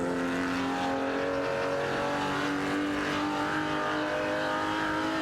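Race cars from an AI-driven racing game roar around the track, a steady layered engine drone with shifting revs and occasional tire squeal from several cars at once, loud and continuous with no talking.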